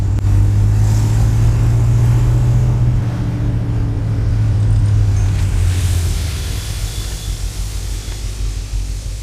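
A car with unassisted mechanical steering on the road: a loud, steady engine drone and road rumble inside the cabin, the low hum easing slightly partway through as it keeps rolling.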